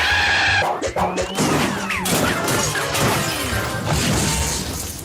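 A cartoon race car smashes up and breaks apart after a turbo boost, with a loud burst of crashing and crunching followed by scattered clattering debris and a fading rumble, close and without talk.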